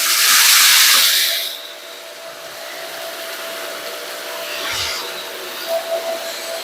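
A Shark Apex AZ1002 vacuum cleaner switches on over a hard floor with a loud, broad hiss for the first couple of seconds. The hiss then settles into a steady, quieter suction drone, with a short burst of airflow noise near the end.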